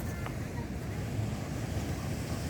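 Waves wash ashore at a seashore in Barangay Tanpail, Tigbauan, Iloilo, with a steady low surf rumble and gusting wind buffeting the microphone, quiet and continuous throughout.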